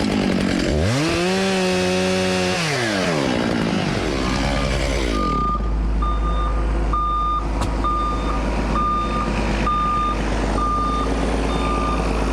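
Chainsaw engine revving and cutting vines on a timber job, loud and close, with the engine rising and falling early on, then a steady low drone while a truck's reversing beeps repeat in the background.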